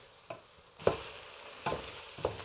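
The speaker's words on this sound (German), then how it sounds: "jetzt fängt es an anzubraten und jetzt muss man ständig die Zwiebeln umrühren, damit die unten nicht verbrennen" Onions frying in a high-sided pot give a steady sizzle, broken by four distinct scraping stirs spaced unevenly across the stretch, each a short, close, moderately loud sweep over the continuous frying hiss.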